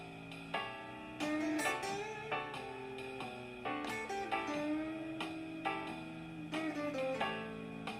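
An A blues backing track with guitar licks plays alone, with a steady band groove and bright lead phrases repeating through the loop, no voices.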